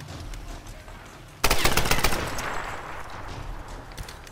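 Shotgun blasts from enemies in Tomb Raider, a sudden loud burst of several rapid booming shots followed by trailing echoes and game noise, with low ambient rumble before.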